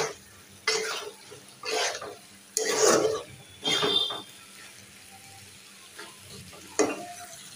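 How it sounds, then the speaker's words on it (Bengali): Sweet pumpkin frying with spices in a pan, stirred in several short scraping, sizzling bursts separated by quieter pauses, with a faint background hum. "মিট কুমড়া হচ্ছে সব ধরনের মশলা দিয়েছি, দিয়ে কষিয়ে নিচ্ছি"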